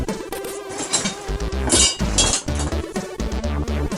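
A hammer taps an egg wrapped in masking tape, giving a series of sharp, close clinks and knocks in an irregular rhythm, loud against a quiet background.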